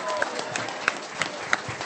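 Audience applause at the live Nerdtacular 2014 show: a brief, dense burst of crowd clapping with sharp claps scattered through it, heard close and steady for under two seconds.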